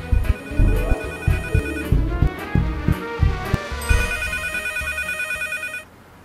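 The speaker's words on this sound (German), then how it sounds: "da bimmelt ein Handy" A mobile phone rings in the Leisure Suit Larry Box Office Bust video game, a loud repeating electronic ringtone melody with rhythmic beats that plays alone for about six seconds and then cuts off.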